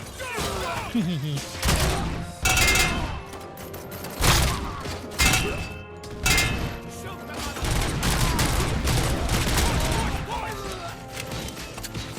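Gunfire in the video game Robocop: Rogue City, rapid bursts of shots with heavy thumps and impacts over a tense score, while game characters shout over the shooting.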